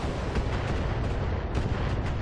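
Heavy weapon fire rumbles through a BattleTech battle, a dense, loud barrage of overlapping booms and blasts with several distinct thumps rising out of a continuous rumble.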